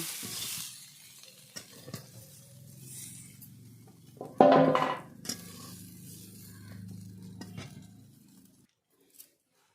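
Fried fenugreek greens with potato scraped and lifted out of a hot pan: soft stirring and scraping with a faint sizzle, one louder clatter midway, then a fade to quiet.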